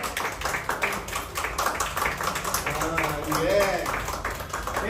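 Several people on a serial set in a showroom clap in a loose, steady patter while voices chatter underneath.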